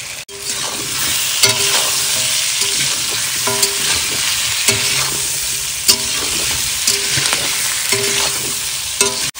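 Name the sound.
potatoes sautéing with spices in pan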